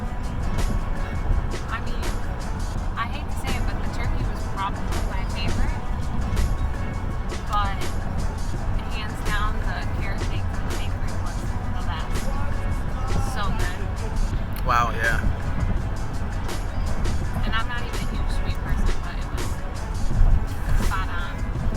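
Car driving home on the road, a steady low engine and tyre rumble throughout, with people talking inside the vehicle over it.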